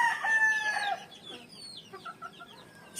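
An 11-month-old Sweater stag, a young gamefowl rooster, crows briefly and then breaks into a series of soft, close clucks, heard alone without talk.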